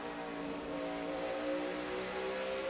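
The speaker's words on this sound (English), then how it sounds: "The difference this time, Kyle Busch got back to the throttle first." NASCAR Sprint Cup stock cars racing at Bristol, a steady, loud engine roar that holds its pitch and level throughout, with no pauses.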